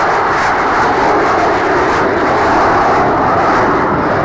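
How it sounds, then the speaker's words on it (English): Great British military jets, among them the Hunter and the Canberra, fly past at the Dunsfold air display in 2014, a loud, steady engine roar that stays close and constant throughout. "Three of the great British aircraft as she comes round the runway."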